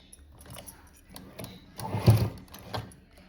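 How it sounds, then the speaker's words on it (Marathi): A sewing machine stitches the neckline of a cut-work blouse in short uneven bursts of rattling mechanical chatter, swelling into a louder run near the middle before easing off. "आता आपण आधी या साईडची टिप मारून घेऊ"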